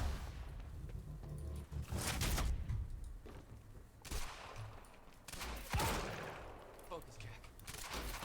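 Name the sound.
sniper gunfire in video game Quantum Break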